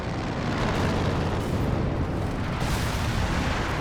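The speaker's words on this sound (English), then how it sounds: "there's some sort of really good barrage in this" Artillery barrage in the strategy game Company of Heroes 2, a dense, continuous roar of heavy explosions and rumbling blasts, loud and sustained with no gaps.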